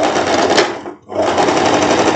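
A sewing machine runs a triple stitch along the facing of a floral wrap dress, a steady loud whir of rapid stitching with one brief pause midway before it resumes.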